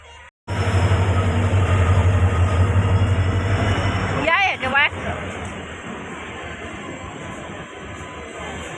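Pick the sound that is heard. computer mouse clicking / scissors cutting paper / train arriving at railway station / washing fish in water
train arriving at railway station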